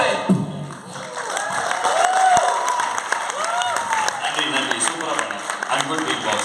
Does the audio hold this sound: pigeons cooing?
no